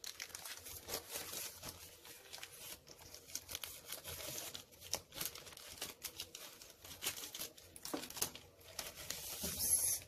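Plastic wrapper on a pack of Tombow Fudenosuke Japanese brush pens crinkles and rustles as it is handled and opened close up, a continuous dense crackling with sharper bursts and no talking.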